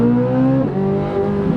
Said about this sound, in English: I'm very happy with the engine. Very happy with the sound.